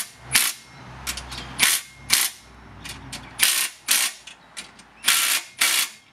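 A Hikoki 36V triple hammer impact driver with a 19mm socket runs in nut release mode, firing roughly a dozen short, sharp rattling bursts of hammering with brief pauses between them, close and loud.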